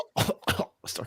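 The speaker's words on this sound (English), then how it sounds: "Start coughing." Three short, harsh coughs in quick succession, close and fairly loud, with brief gaps between them and no other talk.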